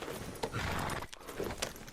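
Horse hooves clip-clop steadily while riding in a Red Dead Redemption 2 game scene, with faint background ambience and no talk over the hoofbeats.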